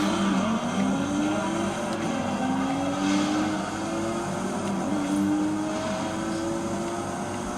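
A racing car in a video game run on a PC with an NVIDIA 3060 Ti card, its engine droning steadily with repeated rising revs and gear changes, loud and continuous with no talking.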